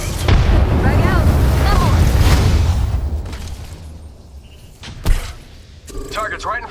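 A frag grenade goes off in the shooter game Apex Legends, a heavy boom with rumbling debris followed by sharp gunfire cracks, while character voice lines play over the action.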